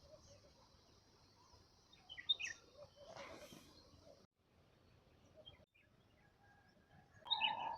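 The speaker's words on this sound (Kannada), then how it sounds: "ಪಕ್ಷಿಗಳ ಸೌಂಡ್ ಮಾತ್ರ ಬರ್ತದೆ" Birds chirp softly in a quiet, still area, a few short calls scattered over a faint background, with a brighter burst of tweets near the end.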